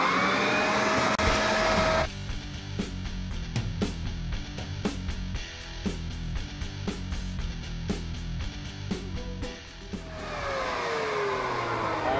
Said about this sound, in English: All right, now I got the blower on